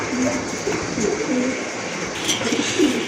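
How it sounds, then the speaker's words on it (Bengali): Several pigeons coo softly and repeatedly in a loft, the low murmuring calls overlapping steadily against a constant background hiss with no one talking. "দুইটাই কিন্তু চুইঠাল একদম ফুল ফ্রেশ কবুতর খুব ভালো স্পিনিং করে"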